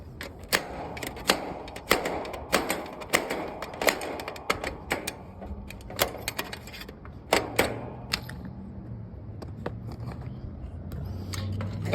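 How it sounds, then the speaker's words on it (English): A flathead screwdriver tightening a wire terminal on an AC disconnect, giving sharp, irregular close clicks and ticks of metal on metal over a low background hum. "Use my flathead to tighten it down."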